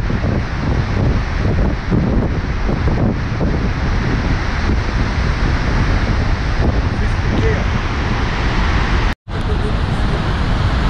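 Yenisei river water pouring over a dam spillway and ski-jumping off it, a loud, steady broadband roar with wind buffeting the microphone, continuous throughout apart from one brief dropout.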